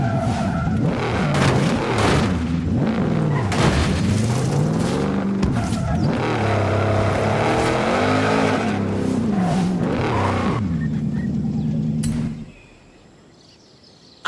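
A car in Forza Horizon 5 roars steadily with loud engine revving, rising and falling pitch and tire squeals, then the engine noise drops away abruptly near the end, leaving quiet ambience.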